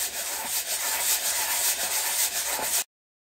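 Rapid, close back-and-forth scratching as 100 grit sandpaper is worked over a Hercules engine oil pump part, a dense, even rasp for about three seconds before cutting off abruptly.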